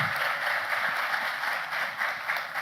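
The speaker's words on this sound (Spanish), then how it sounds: "Por favor, un aplauso." Audience applause at a security and peace panel event, a steady wash of many hands clapping filling the whole moment at moderate loudness.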